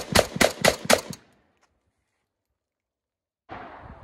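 Five fast, sharp rifle shots from a Palmetto State GF3 fitted with a Kobra red dot crack in a rapid string at an outdoor range, then silence before a voice starts speaking.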